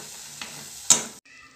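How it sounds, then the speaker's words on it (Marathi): Chana bhaji masala spices are stirred and fried in hot oil in a pan, giving a steady close sizzle with a louder scrape of the spoon, which then cuts off abruptly. "त्याला हलवून चांगलं परतून घ्यायचं."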